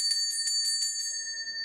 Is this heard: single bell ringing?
yes